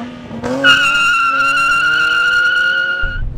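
A Nissan 370Z with a naturally aspirated 3.7-litre VQ37 engine gives a sudden, sustained high squealing tone that holds loud and steady for about two and a half seconds before cutting off.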